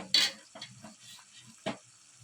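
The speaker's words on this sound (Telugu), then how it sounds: "గరం మసాలా వేసుకుని ఇదంతా బాగా మిక్స్ చేసుకోవాలి." Chicken and broad bean curry with chili powder and garam masala is stirred in a pan, giving a few close scraping and clattering strokes of a spoon against the pan, separated by quieter gaps, with no talking.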